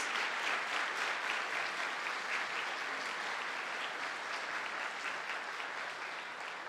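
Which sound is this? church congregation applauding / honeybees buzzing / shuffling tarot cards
church congregation applauding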